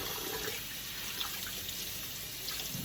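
Broccoli rabe rinsed under a running kitchen tap, a continuous close hiss of flowing water with faint splashes over the whole span.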